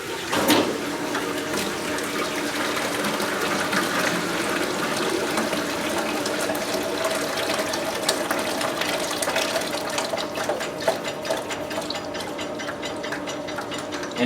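Sanitizer drains from a Spaceman soft serve machine with an air pump in a steady, loud rush of liquid and a constant mechanical hum, with no talking.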